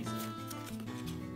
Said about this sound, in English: And now you're using scissors.